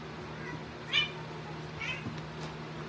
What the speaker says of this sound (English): Cats were fighting.